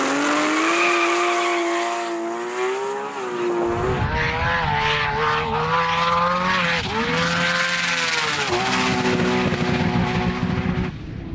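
High-revving engine of a 2000hp-plus Nissan GT-R drag car racing down a runway, loud and close with sweeping harmonic pitch rises as it shifts through gears, a sharp change in tone midway and a final upward climb.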